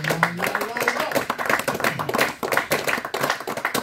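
Congregation clapping and acclaiming the Lord at a church service, brisk continuous rhythmic hand claps with cheering voices mixed in, close and lively throughout.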